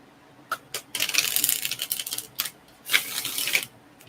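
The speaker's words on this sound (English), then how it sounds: "wait there patiently while I shuffle the cards" A deck of cards being shuffled in a quiet room: a few crisp flicks, then a dense fluttering riffle, a pause, and a second shorter riffle, close and clear with no talk.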